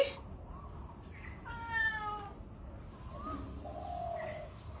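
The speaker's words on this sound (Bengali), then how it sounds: "আদুরি রে, সকালবেলা এসে এত ডাকছে এত ডাকছে" A cat meows repeatedly early in the morning, the calls faint and somewhat distant over a quiet background with a bird cooing nearby; no one talks.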